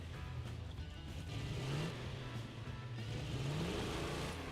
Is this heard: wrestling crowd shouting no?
no